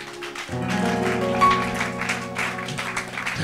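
A church congregation applauds steadily for several seconds, a dense wash of clapping layered over sustained organ-like music tones.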